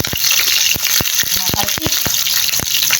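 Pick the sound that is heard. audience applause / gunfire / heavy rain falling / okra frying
okra frying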